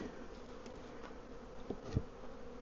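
Bees buzzing around an agitated beehive during a hive check, a steady close drone of many insects with a few louder passes near the listener, no voices.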